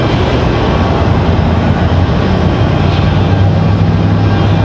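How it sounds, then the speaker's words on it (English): A CRJ regional jet moves at Raleigh-Durham airport, giving off a loud, steady, close engine roar with broad rumbling noise and no pauses. "CRJ on the move."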